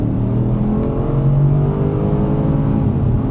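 A 500-horsepower Porsche Cayenne Turbo 958.1 accelerates hard to overtake on a smooth road, its engine a loud, steady drone from inside the cabin that climbs gradually in pitch.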